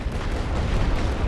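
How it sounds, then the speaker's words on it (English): An artillery bombardment in the WWI strategy video game The Great War: Western Front makes a dense, loud, continuous rumble of booms throughout this very short stretch. "We're going to go ahead and drop some arty directly on top of them there."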